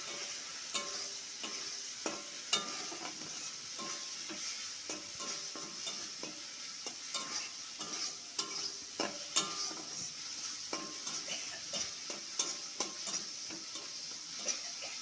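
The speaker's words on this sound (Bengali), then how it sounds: "এবার ভালো করে তেলের ওপর নাড়িয়ে চাড়িয়ে নেওয়া হচ্ছে" Tomatoes and vegetables frying in oil in a pan are stirred steadily, giving a continuous sizzle with repeated scraping and clinking strokes of the spoon throughout, close and fairly quiet, with no talking.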